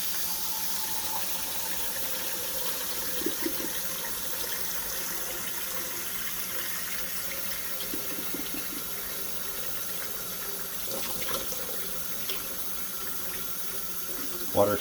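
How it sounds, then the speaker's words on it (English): Cold water runs steadily from a kitchen tap over freshly boiled eggs in a pan, a constant close rush with faint clatters and a louder knock at the end. "then just run some cold water over it."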